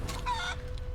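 A chicken clucks and squawks in the video game Divinity: Original Sin II, a brief burst of bird calls over a low, steady game backdrop.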